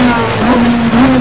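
A DTM 2013 race car at Hockenheim in Game Stock Car Extreme, engine holding a steady buzzing note with a slight rise and dip, loud and close, heard alone for a brief moment.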